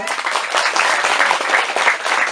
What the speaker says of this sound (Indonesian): tepuk tangan dulu untuk penabur kita